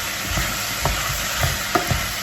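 Vegetable soup with softening potatoes stirred in a pan, with several soft scraping knocks of a spoon over a steady low sizzle.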